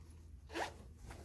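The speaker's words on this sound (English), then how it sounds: "Okay, so we have the inside zipper." A single quick zip on the inside zipper of a handmade sewn crossbody bag, close and fairly soft, over quiet room tone.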